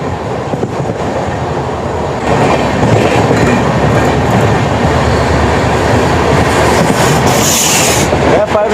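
The Bihar Sampark Kranti superfast train rolls along the line while overtaking another train, a loud, close, continuous rumble of wheels and carriages with clickety-clack rhythm and a brief high squeal near the end.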